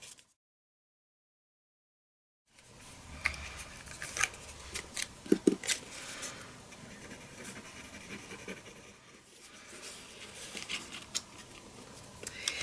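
Scissors snip through card stock while a paper band is wrapped and creased, giving a few sharp close cuts among soft rustling and handling noises after a short stretch of silence.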